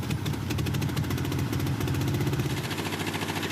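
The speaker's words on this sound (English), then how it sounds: "fire this thing up, see if it'll sit here and idle off some fresh fuel" An old Jeep J engine idles roughly with uneven, stumbling pulses and a misfiring, chugging rhythm, running close and continuous without talk.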